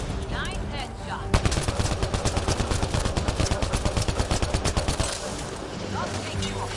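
Rapid automatic gunfire in the video game Mass Effect Andromeda, a steady stream of loud shots lasting several seconds amid game sound effects.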